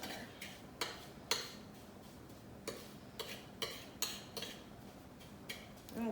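Sugar scrub tinted red and blue being mixed in a bowl, spread against the side: a series of separate scraping clicks and taps of utensil on bowl, close and fairly quiet, with pauses between strokes and no talking.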